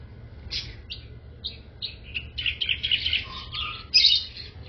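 Several caged birds chirp and tweet in short, high bursts in a garage, over a quiet low background hum, some calls overlapping.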